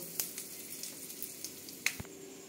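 Bay leaf and dry red chilli are tempered in a small amount of hot oil along with five-spice and a pinch of asafoetida. The sizzle is soft and close, with a few sharp crackles and pops, and there is no talk.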